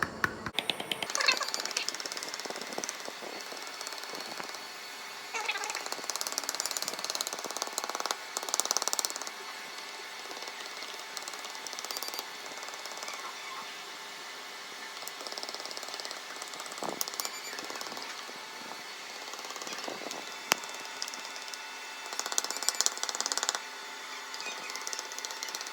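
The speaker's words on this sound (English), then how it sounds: "Then keep tilting it and hammering it." The blue hammer being tilted and worked gives a faint, fast rattling stream of taps, a continuous buzzy chatter with brief louder bursts, heard alone at low volume.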